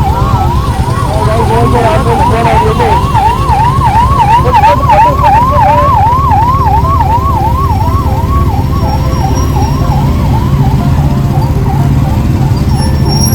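A loud wailing ambulance siren cycles rapidly up and down, close by, over rumbling heavy traffic and engine noise.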